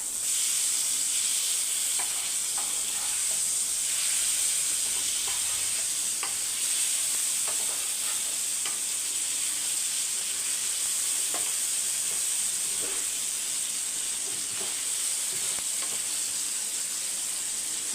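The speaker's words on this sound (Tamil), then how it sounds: "இப்போ சூப்பராக நம்மளுக்கு மீன் ஃப்ரை ஆகிட்டு இருக்குது" Fish fries in a pan with a loud, steady hissing sizzle and scattered small pops and scrapes throughout, heard alone at close range.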